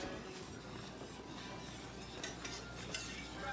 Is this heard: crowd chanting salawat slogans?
no